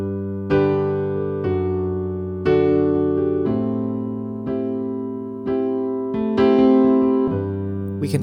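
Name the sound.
piano chord pattern with A bass note added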